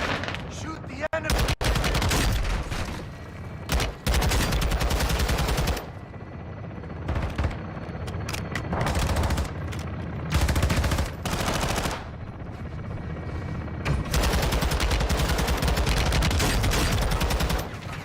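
Sustained automatic gunfire in Call of Duty Modern Warfare II roars loud and close in long bursts with brief gaps, mixed with heavy battle noise and a few indistinct voices.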